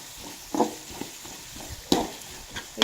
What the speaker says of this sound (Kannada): ನಾನು ಫ್ರೈ ಮಾಡ್ತೀನಿ ಇವಾಗ. ಇದು ಗೋಲ್ಡನ್ ಬ್ರೌನ್ ಬರೋವರೆಗೂ ಫ್ರೈ ಮಾಡ್ಕೊಬೇಕು ಇದನ್ನು.